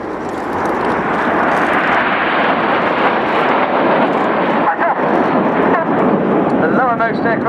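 Red Arrows jets in a Diamond formation flying display at RIAT 2015 roar loudly and continuously overhead, a dense, steady jet engine rush throughout, with a commentator talking over it.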